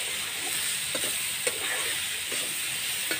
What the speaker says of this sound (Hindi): और ये मसाला भी डाल देते हैं, छह हल्दी भी डाल देते हैं, बस इतना काफ़ी है। और इसको मिला देते हैं।